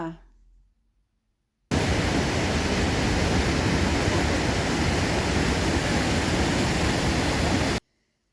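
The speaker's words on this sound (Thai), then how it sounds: "น้ำตกที่นอร์เวย์นะคะ" After a brief quiet start, a dense, steady rush of falling water from a mountain waterfall in Norway fills the air, broad and hissing, then cuts off abruptly.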